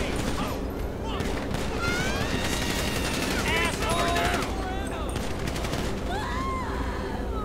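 Heavy gunfire in GTA 5 during a police patrol shootout, sustained rapid bursts and machine-gun fire layered over sirens and other game noise, loud and continuous throughout.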